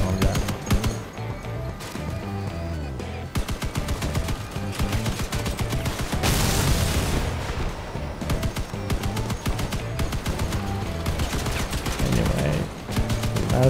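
Spectre-2 machine gun bursts in the vehicle combat game Crossout, loud rapid volleys of gunfire in repeated tapping bursts with short gaps, over a dense in-game battle din of engines and impacts.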